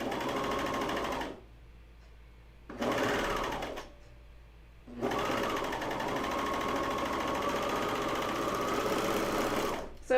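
A serger sewing machine stitches underwear in close, loud bursts of rapid mechanical whirring, stopping twice briefly before running steadily for several seconds.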